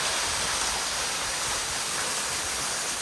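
A small canyon creek spills over a little cascade, a steady broadband rush of falling water, close and continuous with no voices.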